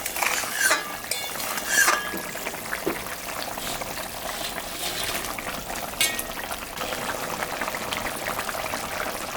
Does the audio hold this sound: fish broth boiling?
yes